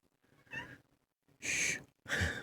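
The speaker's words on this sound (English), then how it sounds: "cat was squawking right when I was reading" A house cat meows three times in short, close cries separated by brief pauses, with no talking.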